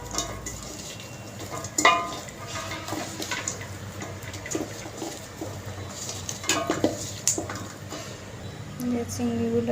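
Small shrimp, potatoes and taro stolons being mixed by hand in a pot, with wet squishing, rubbing and occasional clinks of the vessel at a close, moderate level.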